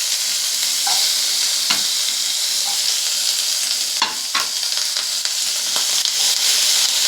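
Hog plums (amra) fry in a pan with green chilli and black cumin, giving a loud, constant sizzle, broken now and then by the scrape and clatter of stirring.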